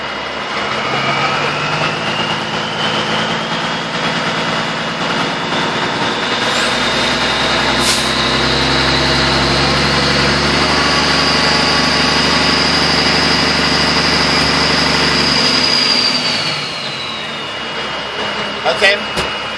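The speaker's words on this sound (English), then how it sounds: "now I'm going to rev it up and we're going to see if we get any more vibration" A six-cylinder engine runs with a loud, steady drone, then revs up into a rising whine before easing off near the end.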